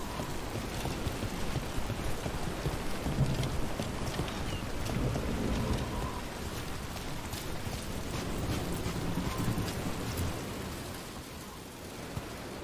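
Steady heavy rain in the video game Dragon Age: The Veilguard, a dense continuous hiss of falling water with a low rumbling undertone that holds evenly throughout, with no speech over it.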